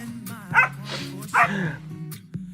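A dog yips and barks a few times in short bursts, close and fairly loud, with some whimpering tones between the barks and no talk over it.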